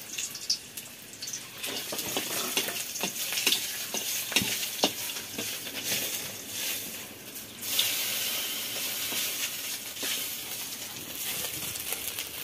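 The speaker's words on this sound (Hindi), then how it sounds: "देखिए दोस्तों लहसुन डले जा रहा है," Garlic fries in hot oil in a wok with a steady close sizzle, punctuated by scraping stirs and clinks of a spatula, moderately loud and without talk.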